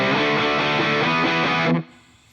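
A distorted electric guitar runs through a Two Notes Genome effects processor with delay, a dense rhythmic chugging riff played loudly before cutting off sharply into a faint fading tail.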